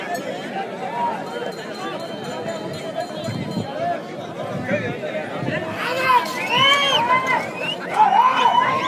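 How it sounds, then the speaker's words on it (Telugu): A crowd at a bull-pulling race in Andhra Pradesh, with a steady babble of voices and chatter that swells near the end into louder shouts and cheering, with raised voices standing out. "కేకలు చెప్పట్లు"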